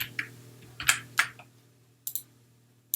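Sparse keystrokes on a computer keyboard: a few isolated clicks and short bursts, close and fairly crisp, spaced by pauses against a quiet low hum, with no talking.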